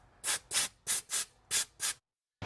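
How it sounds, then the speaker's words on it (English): Compressed air from a hose blasts out leftover coolant on a 2000-2009 Chevy Suburban engine during a valley pan gasket job, in six loud, evenly spaced hissing bursts with a short pause before a seventh begins. "I'm just gonna get an air hose and blow out all the coolant and stuff"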